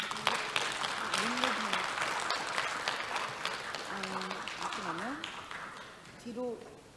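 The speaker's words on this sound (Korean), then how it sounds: "우리 다프라주르 교수님을 큰 박수로 환영해 주시기 바랍니다" Audience applause welcomes a professor at an academic conference on children's songs, steady clapping throughout with scattered voices and brief tonal sounds over it.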